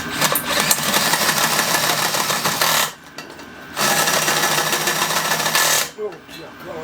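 A die grinder cuts a hole in a homemade gas turbine combustor, a loud, steady, close grinding whine that runs continuously and breaks off briefly twice before resuming.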